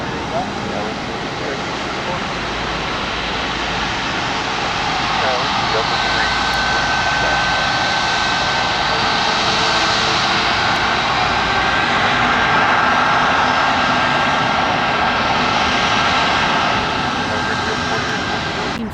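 A Boeing 737 MAX jet airliner takes off from a runway at Columbus airport at golden hour, its loud, sustained engine roar swelling and holding steady while someone talks over it.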